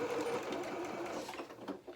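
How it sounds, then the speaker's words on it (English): A sewing machine stitches a small doll's hedgehog jacket almost in a circle toward the underarm seam, a close, quiet continuous whir that slows and stutters slightly near the end. "Just kind of sewing almost round in a circle."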